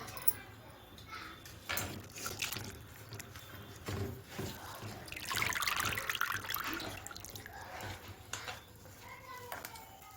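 Small fenugreek leaves being rinsed in plenty of water: soft splashing and swishing, faint and close, run over several seconds, with a voice talking quietly.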